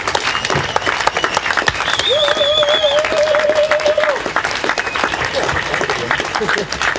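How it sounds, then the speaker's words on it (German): Loud audience applause at an Extinction Rebellion talk on citizens' assemblies, a dense steady wash of clapping running throughout, with whoops and cheering voices rising over it in the middle. "Bitte einen riesen Applaus für Marco Bülow und Claudine Niert."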